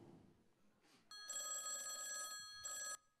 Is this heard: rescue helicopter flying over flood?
no